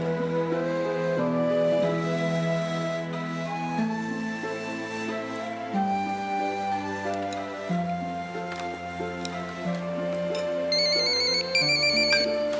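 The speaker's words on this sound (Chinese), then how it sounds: "接个电话" A telephone ringtone plays a repeating electronic melody of clear, bright tones, loud and alone, with no talk over it.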